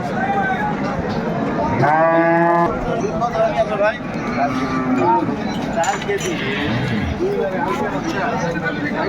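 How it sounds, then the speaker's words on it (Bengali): Cows and calves at a cattle market in Dinajpur, with one loud, close moo followed by lower bellows, heard under steady crowd chatter and nearby talking. "বেশ সুন্দর গাভী বাছুর আমরা দেখছি"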